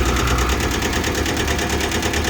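A Kubota B6000 two-cylinder mini tractor engine idles with a loud, steady, close, rapid pulsing chug that never lets up.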